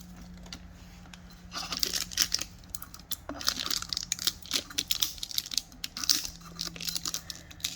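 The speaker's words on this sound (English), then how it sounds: "Take this sticker off." A sticker peeled off a new oil filter during an oil change on a 2005 Dodge Magnum, heard as close, irregular crinkling and tearing bursts that come and go over several seconds without speech.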